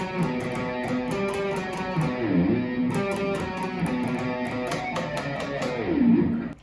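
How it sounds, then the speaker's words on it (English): An electric guitar plays a riff, with pinched harmonics squealing high above the chugging notes; the tone is mildly distorted, close and steady, and no voice is heard. "I actually did some pitch squeals or pinched harmonics"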